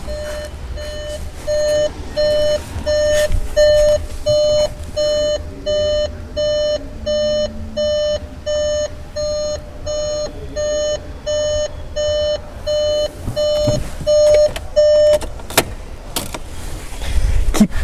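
A Volkswagen Golf 1.4 TSI sounds a loud electronic warning chime during a clutch sensor test, repeating as steady evenly spaced beeps for about fifteen seconds before stopping, with faint background noise.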